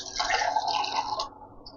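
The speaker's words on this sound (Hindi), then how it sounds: "ये इस पर मैंने डाल दिया पानी" Water is poured into a kitchen soap dispenser already holding Vim dishwashing liquid: a close, bubbling splash that runs for just over a second and then stops abruptly.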